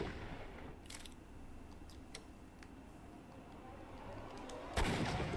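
Gunshot in a Sherlock Holmes video game, with a few faint sharp cracks early on and one louder, broad shot near the end against a quiet ambient background.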